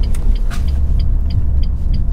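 A 2006 Renault Mégane II RS Turbo 225 three-door accelerating, with low engine and road rumble under a series of faint, evenly spaced high ticks, steady and fairly loud from inside the car.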